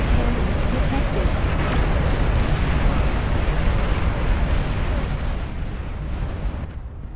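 Long-range plasma cannon shells explode continuously in the strategy game Beyond All Reason, a dense, loud rumbling barrage of booms and bursts that rolls on without break and fades slightly toward the end.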